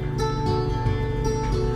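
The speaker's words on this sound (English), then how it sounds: "Sorry about the noise, I got my laundry going, my dryer." A clothes dryer in a laundry room runs with a constant low rumbling hum and a faint steady whine, close and unchanging.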